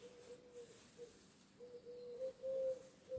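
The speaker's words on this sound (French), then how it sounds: "les oiseaux" Quiet outdoor ambience with soft, repeated cooing bird calls, distant and intermittent, growing slightly louder toward the end.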